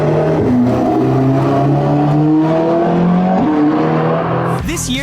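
A modified Tesla Model 3 race car with a real engine-style sound and transmission howls loudly on a racetrack, its pitch climbing through several gear changes before a final rapid rev.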